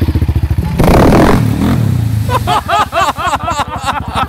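A motorcycle pushes through flood water, its engine pulsing steadily, then a loud surging rush of water spray before the engine note returns with rapid putters, all close by.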